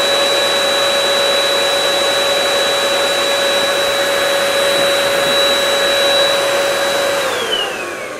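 An Earlex paint sprayer's turbine runs loud and steady with a high, vacuum-like whine, holding constant for about seven seconds before its pitch slides downward as it spins down.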